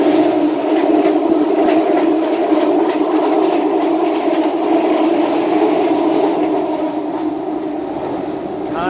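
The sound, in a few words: subway train passing by loudly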